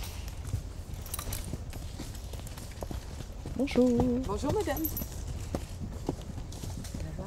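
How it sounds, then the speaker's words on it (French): Two horses carrying riders walk past on an outdoor path, their hooves clip-clopping steadily at close range while people exchange brief greetings over them. "nous avons 2 chevaux avec 2 cavalières qui sont passés"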